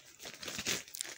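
A bag being handled, its thin material crinkling and crumpling in a short, close burst of rustling, with no talking over it.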